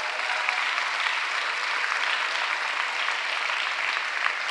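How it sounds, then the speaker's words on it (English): Audience applause for labor at the Philadelphia mayor's State of the City address: dense, steady clapping from a large crowd, loud and continuous throughout without a break. "Please give Labor a huge round of applause."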